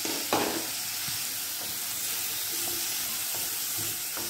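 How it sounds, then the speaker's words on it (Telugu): Tomato frying in a pan for sweet corn chaat gives a steady, close hiss of sizzling oil throughout, with a few soft stirring knocks and no voices. "ఇదైనా అంతే ఓకే ఒక 2 నిమిషాలు వేయించుకుంటే సరిపోతుంది"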